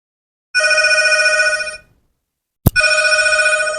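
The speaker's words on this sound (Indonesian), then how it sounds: "Sebentar ya, ada telepon." Telephone ringtone sounding twice with a pause between rings, loud, steady and close, with a sharp click just before the second ring and no talk.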